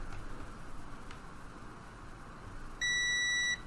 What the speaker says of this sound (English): see how that beeps when I touch this one?